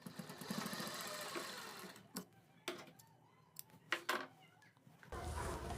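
A sewing machine stitches along a kurti neck piece in a brief run at the start, followed by scattered handling clicks and rustles, then a short burst of machine hum at the end.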